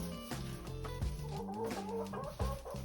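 Hens cluck and murmur close by on a farm, a run of low, stuttering clucks with a few sharper calls, no talking.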